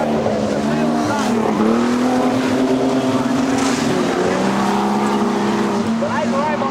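Modified production race cars roar around the dirt oval at Kingaroy Speedway on a slightly wet track, several engines droning and shifting pitch as they pass, with a race commentator talking steadily over the din.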